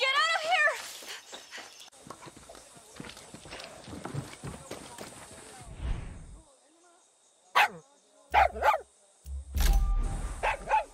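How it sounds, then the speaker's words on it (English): Dog barking in Far Cry 6, a few sharp barks bursting out in quick clusters toward the end, loud and close, after a stretch of game noise and rumbling sounds. "Gotta be honest. I don't speak bark, amigo."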